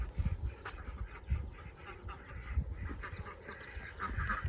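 Ducks and chickens honk, quack and cluck in a busy, overlapping chorus, close by, with shuffling and movement underneath.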